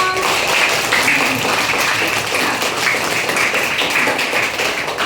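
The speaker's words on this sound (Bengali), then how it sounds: "সবাই একটা হাত তালি দাও" A class of third-grade children claps together during a science lesson, producing a steady, dense patter of hands that holds at an even level for about five seconds with no pause.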